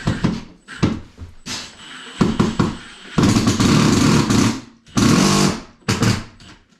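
A power tool drives lag bolts into a wall while mounting an over-the-range microwave, a Frigidaire FGMV17WNVFA, giving several loud bursts of whirring and grinding separated by short pauses.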